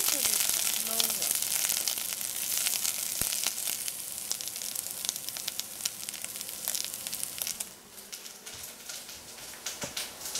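Chopped onion sizzles steadily in a hot pan while egg and tomato are cooked, a dense crackling hiss with scattered sharp pops that eases slightly toward the end.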